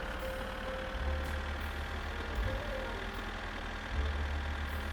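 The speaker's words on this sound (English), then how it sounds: "I hopped into the tractor and headed to the dude's house that was gonna pay me for it." Tractor engine in My Summer Car, a steady mid-pitched drone held at constant revs, with a low rumbling throb that swells now and then as it drives along. No talking.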